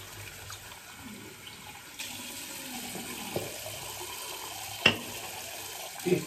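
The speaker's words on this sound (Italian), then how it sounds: "sciacquiamo il rasoio un secondo." Tap water runs to rinse a razor during a wet shave with patchouli soap, a faint, steady splashing flow broken by a couple of small clicks.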